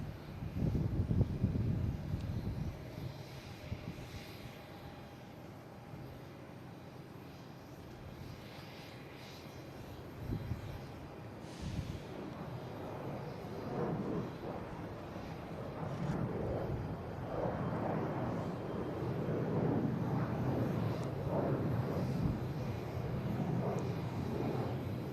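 American Airlines Embraer E175 regional jet departing Boston Logan for Chicago, its engine roar building from a distant rumble into a steady, moderately loud broadband wash that holds through the end.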